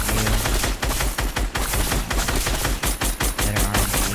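Rapid tap-fired gunshots from a weapon in Fortnite, a dense string of sharp, loud reports in quick irregular bursts with short pauses between them.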